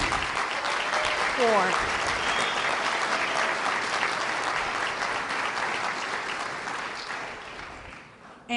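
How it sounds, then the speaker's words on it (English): City of Tampa employees and audience applaud at a city gathering: dense, steady applause held for several seconds before stopping abruptly, with a brief spoken word near the start. "Applaud yourself."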